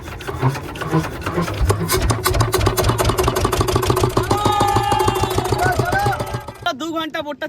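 A fishing boat engine on a hilsa fishing trip chugs steadily and loudly nearby with a rapid regular throb, with a brief voice near the end.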